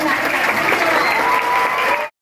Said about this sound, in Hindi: आपकी तालियों की गड़गड़ाहट भी इस बात की गवाह है कि ये प्रस्तुति आपको कितनी पसंद आई